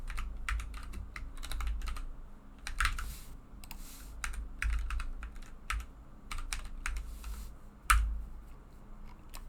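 Computer keyboard keys tapped in quick irregular bursts while equations are entered into the Desmos graphing calculator, close and fairly quiet, with short pauses between runs of clicks and no talking.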